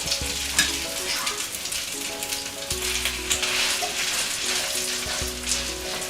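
Gluten-free tuna and mackerel cakes fry in oil in a pan, making a close, steady sizzle. A few clunks and scrapes mark more patties being placed, and no one talks.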